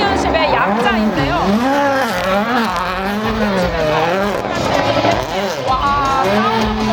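A Toyota Yaris WRC rally car drives past at a Hyundai-Toyota motorsport festival, its engine note rising and falling through revs and gear changes, loud and close, with tire squeal and a crowd under it.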